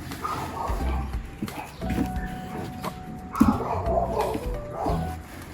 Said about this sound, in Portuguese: Eu não sei porque esse cachorro do vizinho, ele fica todo santo dia latindo desse jeito